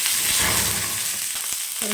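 Shallots sauté in oil in a pan on low heat for a chicken curry, giving a steady, close, continuous sizzle with faint stirring clicks.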